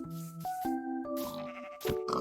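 Sheep in the game Minecraft bleat in a series of short, wavering calls, several in quick succession, clear and close at a low overall level with no talk over them.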